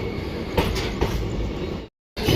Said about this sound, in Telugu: మళ్ళీ మన ట్రైన్ అయితే స్టార్ట్ అయిపోయింది